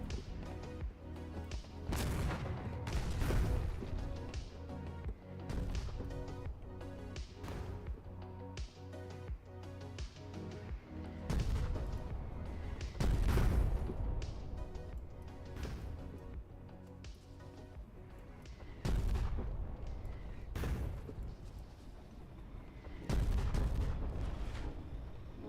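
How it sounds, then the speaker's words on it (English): Howitzer artillery fire in a video game booms out in repeated heavy blasts, each a sharp loud crack that rolls off, spaced every few seconds over a dense, continuous rumble of battle sound. "these frickin' howitzers"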